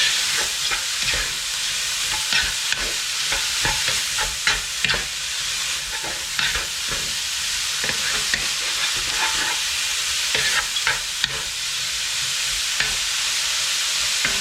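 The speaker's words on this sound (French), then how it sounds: "J'ajoute ma viande hachée. Je remue bien pour tout mélanger." Minced meat sizzles in a hot pan as a utensil stirs it through softened onions, a constant close frying hiss with scraping strokes, and no voices.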